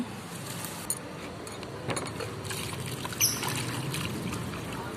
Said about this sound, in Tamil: இப்போ கொண்டு போய் தண்ணி ஊற்ற போகிறேன் புறாவுக்கு